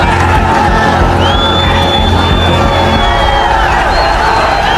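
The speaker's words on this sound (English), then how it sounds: "Nepal's parliament, left undefended, falls to the crowd." A large crowd of protesters roars and cheers as they take over Nepal's undefended parliament. The noise is loud, dense and continuous, with shrill whistles and whoops rising above it.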